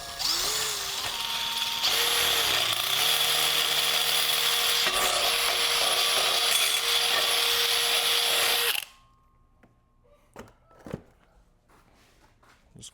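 Steady, loud whine of a power drill boring a hole in wood for a pin, running continuously for about nine seconds then stopping abruptly, followed by a few faint knocks and handling clicks.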